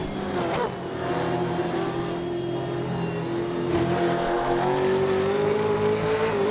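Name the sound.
Toyota Supra race car engine in Assetto Corsa video game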